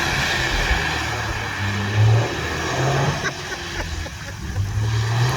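A Toyota GR Yaris engine while drifting, a buzzing, revving engine note rising and falling in short bursts, heard moderately loud from inside or near the car.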